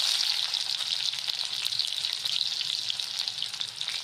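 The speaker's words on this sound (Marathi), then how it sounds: "आता इथे मी कांदा टाकत आहे." Chopped onions, both regular and green, sizzle steadily as they fry in hot oil with garlic in a pan, giving a continuous, even hiss close by with no voices over it.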